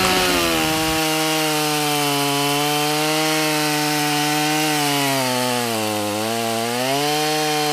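A chainsaw cutting trees outdoors, a loud, continuous engine drone held steady throughout, dipping briefly in pitch as it bites into the wood, with no talk.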